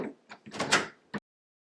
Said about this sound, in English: Close your door and manually lock the deadbolt.